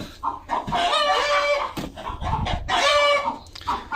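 An agitated hen clucks and squawks loudly in repeated bursts close by after being separated from the flock, with no talking.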